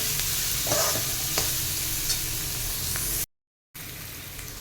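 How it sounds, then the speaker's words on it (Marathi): Onion sautéing in a pan for a quick green rice pulao gives a loud, constant frying hiss with occasional spatula scrapes, broken by a brief silent gap before the sizzle resumes. "कांदा घालून तो सुद्धा थोडासा परतून घेते"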